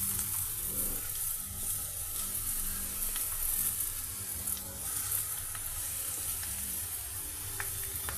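Ridge gourd and onion pieces fry in a pan with a steady, even sizzle that holds through the whole stretch, with faint clicks and scrapes scattered over it and no voices.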